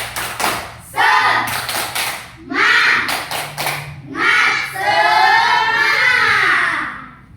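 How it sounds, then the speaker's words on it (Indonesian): Children in a classroom perform a rhythmic spirit clap, with sharp clap bursts in a patterned beat mixed with chanted group voices, loud and close. "Tepuk semangat."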